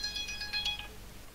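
A phone rings with an incoming call, a short electronic ringtone of repeated bright chirps heard faintly in a quiet room and fading out within a second or so.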